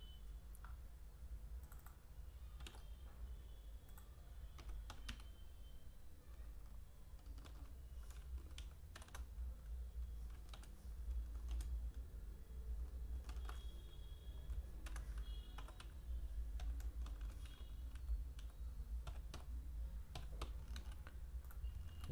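Steady clicking of keys on a computer keyboard as C# code is typed, an uneven run of quiet taps over a low hum, with no voices.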